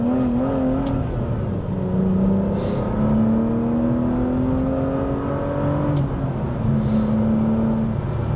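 Aston Martin Vanquish V12 engine pulling steadily while driving, its smooth tone rising and falling through the rev range from inside the car, continuous and fairly loud with no talk.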